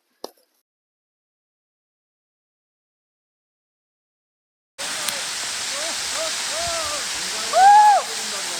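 A hidden waterfall reached after a long trek through the forest near Jibhi, Himachal, gives a steady, full rushing roar. It begins abruptly after a brief tap and a long silence. Faint voices or birdlike calls sit over the water.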